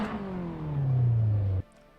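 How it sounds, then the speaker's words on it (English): Race car engine in Assetto Corsa revs up in one sustained, rising-then-falling sweep, loud and close, then cuts off abruptly after about a second and a half, leaving a quiet hum. "Now you can hear the car."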